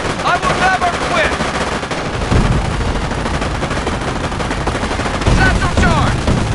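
Dense, loud video-game gunfire from Company of Heroes, with sustained machine-gun bursts and rattling shots filling the scene, plus brief shouted voices mixed in.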